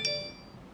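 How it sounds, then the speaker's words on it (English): A single short phone notification chime rings out, bright and clear, then fades over a faint background. "just notification after notification"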